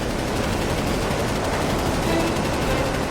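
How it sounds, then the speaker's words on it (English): A dense, loud burst of rapid 30mm cannon fire, continuous hammering shots blending into a roar for a few seconds. "A short burst of 30mm cannon fire."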